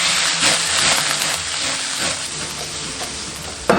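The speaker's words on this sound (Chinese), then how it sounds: "然后把这些海鲜干货的香味全部炒出来" Pork belly and dried seafood stir-fry in oil in a wok, a dense, continuous close sizzle and hiss with scraping stirs throughout, ending on a sharp clank.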